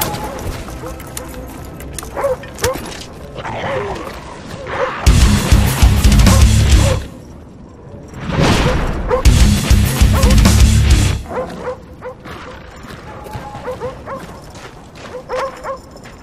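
Attack dogs in the Call of Duty Black Ops video game bark and yip amid loud bursts of gunfire and game noise.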